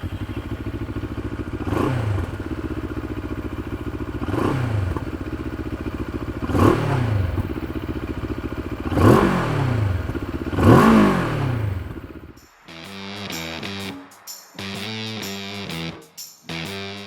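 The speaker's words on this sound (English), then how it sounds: "let's listen to the exhaust note of this 650cc twin cylinder engine." A Moto Morini X-Cape 650cc twin-cylinder motorcycle idles and is revved in several sharp blips with a throbbing exhaust note, then settles into a lumpy, pulsing idle.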